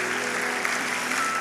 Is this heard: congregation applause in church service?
yes